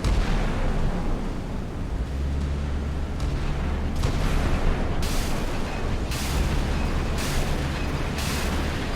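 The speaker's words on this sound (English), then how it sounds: "Someone's firing missiles." In a Sea Power naval battle between US and Chinese warships, missile launches and naval gunfire rumble constantly, with repeated booming blasts at regular intervals over a deep, continuous roar.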